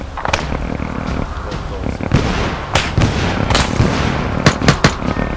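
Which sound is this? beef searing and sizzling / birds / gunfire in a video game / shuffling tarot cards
gunfire in a video game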